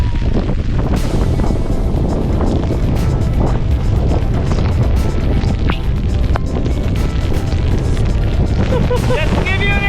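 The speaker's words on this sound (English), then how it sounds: "We're getting plummeted by rain," Strong wind and heavy rain batter the microphone on Iceland's southern coast near glaciers, a loud, continuous roaring rush with buffeting surges throughout.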